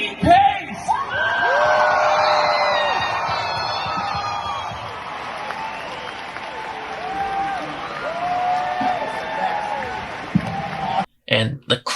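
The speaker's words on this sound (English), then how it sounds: "The crowd literally went crazy." A Comic-Con panel crowd erupts in loud cheering, whoops and applause as Lee Pace is brought out as Thragg, a sustained roar with yells on top that stays strong for most of the time before cutting off near the end.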